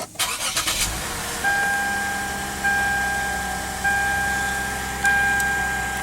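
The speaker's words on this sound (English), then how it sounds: "put our foot on the brake and hit the engine start button" A 2008 Lexus IS250 engine cranks briefly and catches after a push-button start, then settles into a steady idle with a high electronic chime sounding repeatedly over it.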